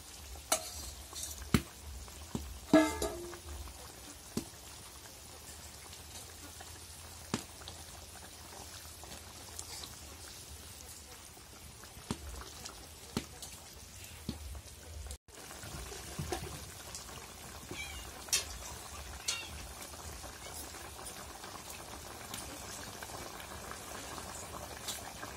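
Fish curry simmering in a pot, a soft steady bubbling and boiling that runs throughout, with occasional clinks and stirring knocks standing out above it.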